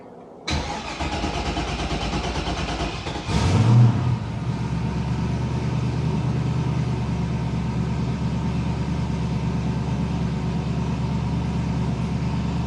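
A 1000-horsepower Ford Foxbody catches on a cold start, flares up loudly, then settles into a steady, rumbling idle that holds close and even with no talking.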